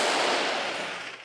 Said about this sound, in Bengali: অপরাধীদের অবস্থান লক্ষ্য করে চলছে নিরাপত্তা বাহিনীর মুহুর্মুহু গুলি।